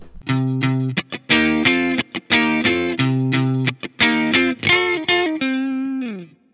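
Electric guitar through a Fender Deluxe Reverb amp model on a BOSS GT-1000 processor, a run of strummed chords and short stabs ending on a sustained note that bends and fades.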